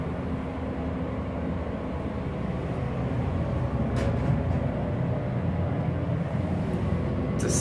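A Century hydraulic elevator running in a university district parking deck in Hagerstown, a continuous low rumbling hum that swells slightly midway, with a few faint clicks over it.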